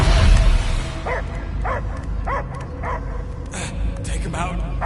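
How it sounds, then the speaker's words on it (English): A dog barks and whimpers in repeated bursts inside the Guardians of the Galaxy video game, under busy game sound effects and music with voices talking over it. "I hear only barking."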